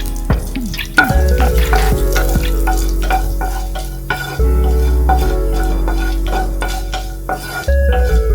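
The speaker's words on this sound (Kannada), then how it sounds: "ಫಸ್ಟಿಗೆ ನಾನು ಮೆಣಸು ಹಾಕ್ತಿದ್ದೀನಿ, ಮೆಣಸು ಹಾಗೆ ಜೀರಿಗೆ. ಕೋಕೋನಟ್ ಆಯಿಲ್ ಯೂಸ್ ಮಾಡಿದ್ದೀನಿ." Black pepper and cumin frying in hot coconut oil in a pan, with a steady sizzle under clanking metal stirring and scraping, plus a few sharp ringing utensil hits.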